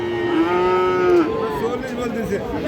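A crossbred bull calf moos loudly at a busy cattle market, one long sustained bellow that drops in pitch, followed by a softer wavering tail against steady market background noise.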